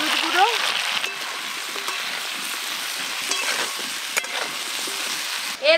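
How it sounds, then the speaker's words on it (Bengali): Cut potatoes and pointed gourd frying together in a pan with salt and turmeric, a steady close sizzle with occasional stirring scrapes and brief clatters, no talking. "এই যে এখানে সুন্দরভাবে ঝোলের মতো আলু পটল কাটা আছে, একসঙ্গে ভেজে নেব।"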